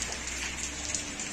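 Heavy rain falls at night in the city of Crateús, a dense, steady hiss of drops pattering on surfaces, constant and enveloping with no voices.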